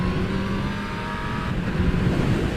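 A 2018 Honda CB1000R four-cylinder motorcycle engine runs hard and steady at high revs, a dense buzzing roar with slight shifts in pitch, close by.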